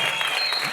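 A short burst of audience applause at an academy graduation ceremony, a steady, fairly loud patter of many hands that lasts under a second.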